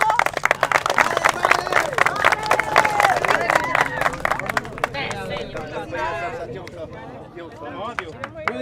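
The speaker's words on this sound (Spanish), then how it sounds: "¿Y el aplauso?" A crowd at an interethnic women's football tournament claps for the newly crowned 2013 queen, sharp uneven hand claps mixed with loud chatter and excited voices, the clapping thinning as talk takes over.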